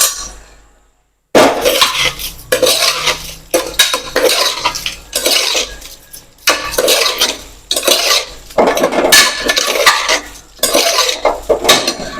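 A spoon stirs salty rice (khara bhaat) in a metal pan: after a brief silence come loud, close, repeated scraping and clinking strokes in uneven bursts, with no voices.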